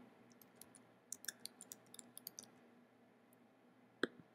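Sharp, sparse computer mouse clicks on a Mac, a quick irregular cluster and then a single louder click, close and faint over a quiet background with no talking.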